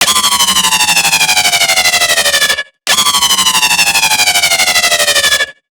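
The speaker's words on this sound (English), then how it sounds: "when you automate the pitch bend, it'll sound like this." A sustained synth bass patch from Serum with automated pitch bend plays as two loud, buzzy, pulsing notes of about 2.5 seconds each, with the pitch sliding steadily downward through each note and a brief gap between them.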